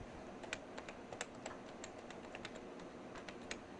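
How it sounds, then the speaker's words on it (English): Steady, rapid clicking of keys as a web address is typed on a computer keyboard, with brief individual keystrokes at an even pace, close and fairly quiet, with no voices. "I will go up to the address and I will type in"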